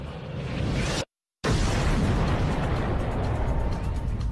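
A dense, roaring rumble of an explosion, broken by a brief cut to silence, then the blast roar continues loud and sustained.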